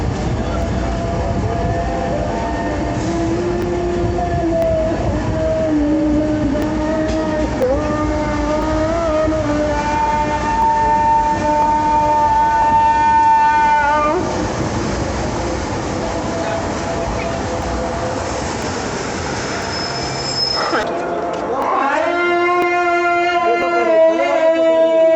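Jaffar Express passenger train pulling out of Raiwind station after a two-minute stop: a continuous loud rumble with rising engine tones and a horn, then a louder burst of rail noise near the end.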